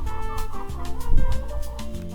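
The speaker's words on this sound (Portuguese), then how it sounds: "alimentei as galinhas" Chickens cluck in a short burst of overlapping calls while being fed, close by and fairly loud.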